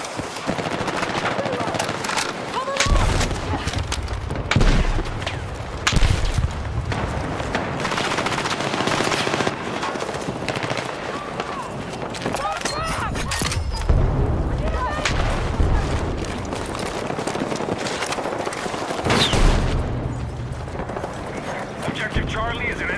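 Video game battle gunfire with bursts of automatic fire, single shots and a grenade blast, loud and continuous with booming impacts, while voices call out over the fighting.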